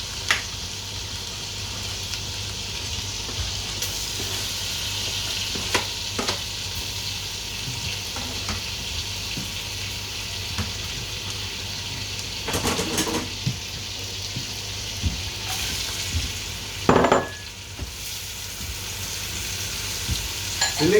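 Garlic fries in a pan for lamb hotpot with a steady sizzle and crackle, broken by scraping stirs and a few louder clattering knocks near the end.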